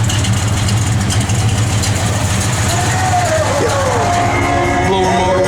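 A 1968 Chevrolet Chevelle SS idles steadily with a low, even rumble throughout, with background voices and some higher whine over it.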